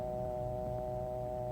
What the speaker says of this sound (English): Take up your receiver and always listen for the dial tone.